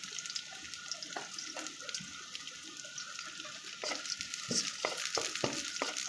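A large amount of garlic fries in a pan with a soft, steady sizzle, joined by a run of spatula scrapes and taps that grows busier toward the end.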